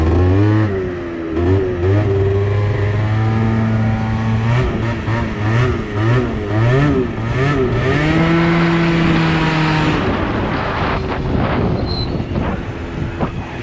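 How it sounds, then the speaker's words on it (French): An MBK Booster Next 70 scooter engine, fitted with a variator under test, revs up and down in a steady drone and stutters with slight misfires as it accelerates. "on voit hein, quelques petits ratés au moment de l'accélération"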